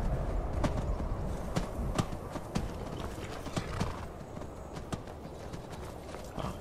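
Horse hooves clip-clopping in the video game Skyrim, a quiet steady run of hoof strikes alone with no talk.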